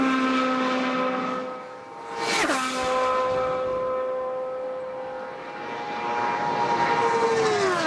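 IndyCar race car engine at full speed on a qualifying lap of the 2010 Indianapolis 500 at Indianapolis, a loud steady high-pitched whine with one sharp Doppler swoop as a car passes close, then a sustained drone.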